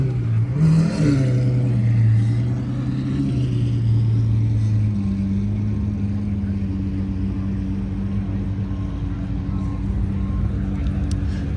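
A Lamborghini Revuelto's engine roars very loudly and close by, a steady heavy rumble that swells near the start and then holds a deep drone throughout.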